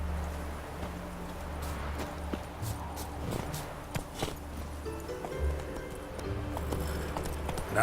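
Geralt's horse Roach in The Witcher 3, hooves clip-clopping in a steady rhythmic gait, moderately close and fairly quiet, with brief game sounds around it.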